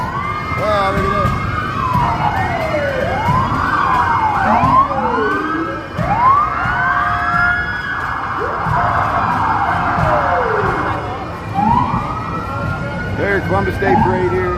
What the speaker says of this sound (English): There's some regular police making a bunch of noise.